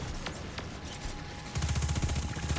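Destiny 2 weapon fire during a legendary lost sector: soft scattered shots early, then a fast rhythmic burst of rapid firing in the last second, moderately loud against game ambience.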